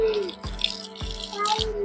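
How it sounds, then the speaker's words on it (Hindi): A garden hose sprays water against a wall outdoors, a steady splashing hiss with rattly bursts and a few drips, repeated in short surges, fairly close with a faint background voice. "मैं अभी दीवार में पानी ही दे रही हूँ"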